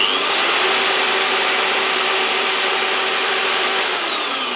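A Bosch PBD 40 benchtop drill press runs with a loud, steady whirring drone that holds evenly throughout, close by and with no voices.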